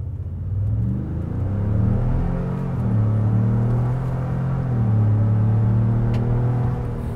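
A 2020 Ford F-150 King Ranch pickup accelerates hard from a launch, its engine note climbing in steady rising harmonics with a loud, continuous close-up rumble throughout.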